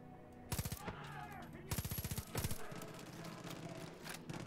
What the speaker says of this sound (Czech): Tam někdo střílí, seš se mnou?